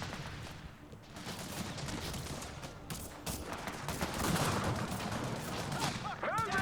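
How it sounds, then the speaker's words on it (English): Mortar and sniper fire crackle in a Company of Heroes 3 battle, a rapid fusillade of distant gunshots and thumps layered over continuous combat noise, fairly faint and unbroken throughout. "Then the mortars start firing on the enemy troops."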